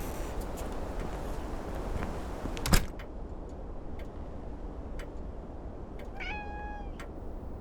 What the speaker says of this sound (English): Don't mind the cat, she's a glutton for attention.